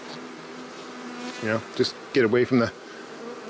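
Honey bees buzz around an open beehive being fed powdered pollen substitute, a steady hum running throughout while someone speaks briefly over it.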